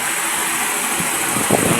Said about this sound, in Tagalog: umaandar na yung makina